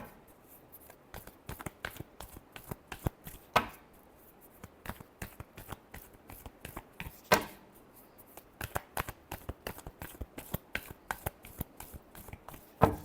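Tarot cards are shuffled by hand close to the microphone in a long run of crisp riffling snaps and soft taps, with a few louder flurries and no speech.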